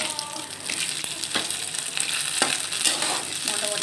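Morola fish fry in hot oil in a pan for a spicy jhal chorchori. A steady, close sizzle runs throughout, broken by a few sharp scraping stirs and utensil clicks, with no talking.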